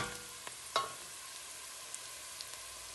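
Onions fry in a pan with a steady low sizzle close by, dotted with a few soft pops and one clunk of the utensil against the pan, no voices.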